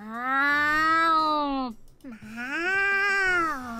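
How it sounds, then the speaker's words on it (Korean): Cat-girl characters in a video game let out two long, loud, wavering meows, one right after the other, each a drawn-out high-pitched cry with a brief gap between them. "설마 여기서 한 번 더 야옹거리진 않겠지?"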